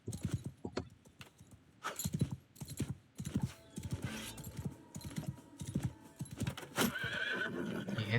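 Horse in the Mount & Blade II: Bannerlord video game, rapid hoof clip-clops in uneven bursts with a sharp whinny near the end over a busy battle background, no talk over it.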